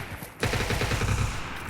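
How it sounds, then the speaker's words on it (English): Sustained gunfire in the video game Fallout 4, with a dense burst of rapid shots that begins abruptly after a brief lull and continues steadily. "I hear gunfire over there."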